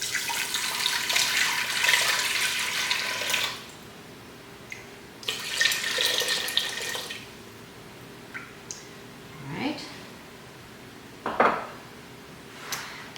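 Water runs and splashes into a cooking pot in bursts while making corned beef brine, with metal clinks and pot knocks between pours, close by and without any talking.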